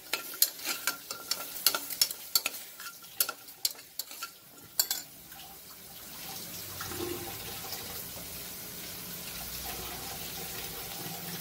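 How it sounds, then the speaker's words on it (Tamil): Curry leaves and ingredients stir and scrape in a hot, dry pan with no oil, with sharp clattering hits, then settle into a steady soft sizzle. "கொஞ்சம் கருவேப்பிலை, அதில் எண்ணெய்லாம் ஊற்றல, வெறும் பேனில் தான் போட்டு வதக்கிட்டுருக்குறேன்"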